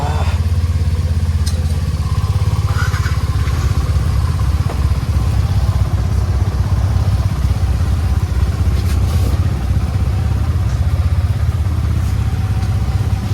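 Motorcycles on a touring ride through Konaseema, Andhra Pradesh, start up and pull away, a steady loud engine drone with clattering mechanical noise throughout and no speech.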